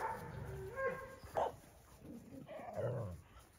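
A dog barks several times nearby, with yips and whimpering between the louder barks, and faint human voices in the background.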